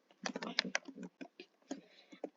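Keys on a computer keyboard click nearby in a quick, uneven burst, then a few scattered single taps after a short pause.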